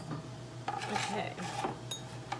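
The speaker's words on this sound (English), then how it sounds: "Grate the garlic cloves in." Garlic cloves are scraped against a grater in short rasping strokes, a close, quiet, scratchy rubbing that repeats over a couple of seconds.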